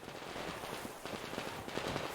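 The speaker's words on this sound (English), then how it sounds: "I'm hearing gunfire in the distance." Gunfire crackles in quick irregular bursts in Metro Exodus, faint and far off, blending into a rough, noisy background.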